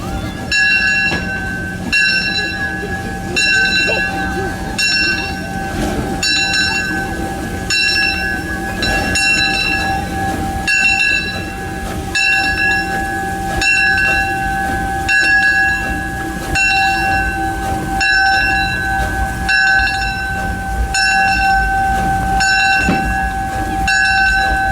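Steam locomotive number 1 puffs slowly into the shops at the Hoosier Valley Railroad Museum, its exhaust chuffs beating at a steady, regular rhythm over a sustained ringing tone and a low mechanical rumble.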